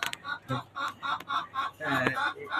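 White tiger chickens cluck on a poultry farm in a quick series of close, rhythmic clucks, a few sharp knocks mixed in, growing busier toward the end.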